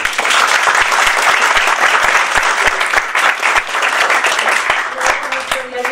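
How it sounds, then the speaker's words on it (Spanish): An audience at a lecture on constitutional topics applauds a speaker, a dense burst of many hands clapping, loud and near, with a voice briefly audible over it as the applause thins toward the end. "Les pido un gran aplauso para él"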